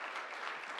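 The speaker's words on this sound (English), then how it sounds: "a round of applause" An audience applauds the four debaters at the close of a debate on whether eating meat is ethical and healthy, a brief, even burst of many hands clapping.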